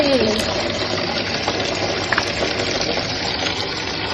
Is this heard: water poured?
yes